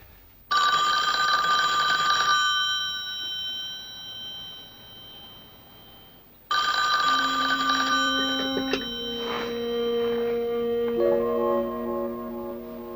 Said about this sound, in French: puis-je téléphoner, s'il vous plaît?